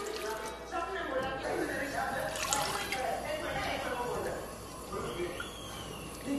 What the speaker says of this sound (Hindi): इसे मैं डाल रही हूँ एक गिलास पानी।